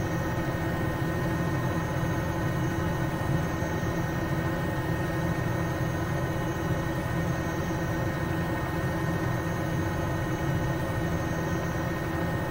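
A helicopter engine in Microsoft Flight Simulator 2020 drones on as a steady, moderately loud hum with a continuous rotor-like rumble, unchanging for the whole stretch and with no talking.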